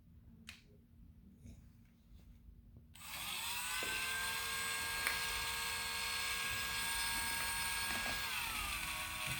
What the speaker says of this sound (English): The next step would be to add the Dremel noise.